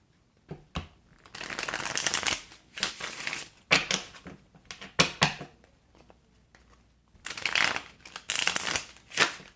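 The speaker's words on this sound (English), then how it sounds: "Let me give this a bit of a shuffle." Repeated bursts of cards being riffled and shuffled, several quick flurries separated by short pauses, close and clear with no talking.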